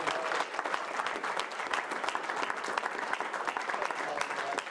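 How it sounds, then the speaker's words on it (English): Steady, close applause from a conference audience fills the room after a business talk, many hands clapping continuously with a few scattered voices underneath. "Let's give a big round of applause."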